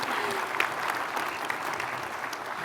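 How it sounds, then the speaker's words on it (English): A round of applause from a small group seated at a table during a university event, steady broadband clapping throughout with a few sharper individual claps standing out. "how about a round of applause?"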